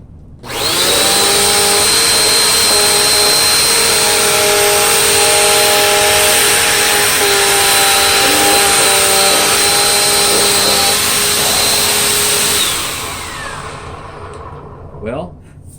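A Bissell Powerforce Compact vacuum cleaner runs loud and close while cleaning along edges, a steady high motor whine and airflow roar that winds down near the end, followed by a brief clatter.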